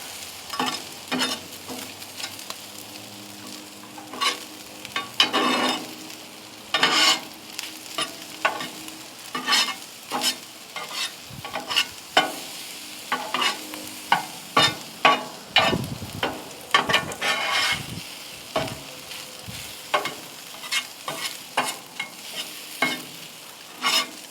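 Fried rice and pork belly are stirred on a hot Ninja FlexFlame grill, with a soft steady sizzle under repeated scraping and clattering of a utensil against the cooking surface and no talking.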